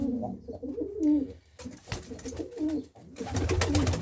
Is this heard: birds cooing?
yes